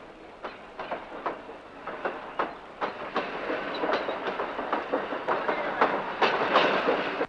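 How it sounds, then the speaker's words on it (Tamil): A train runs along the tracks with a steady clickety-clack of wheels over rail joints, its rhythmic beats rising gradually and rumbling continuously throughout, with no voices. "ரயில் போயிட்டே இருக்கு, பாத்துக்கிட்டே இருக்கியே."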